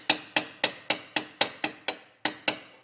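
A steel drift taps a speed nut forward while fitting a gut guard on a Gen 2 KTM 890 motorcycle: about ten crisp metallic hammer taps in a steady rhythm with a short pause near the end, loud and close.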